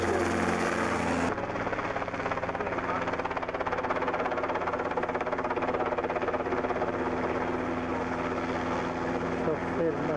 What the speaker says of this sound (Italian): Primo volo dell'elicottero venuto da